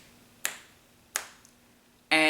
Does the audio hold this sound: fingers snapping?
yes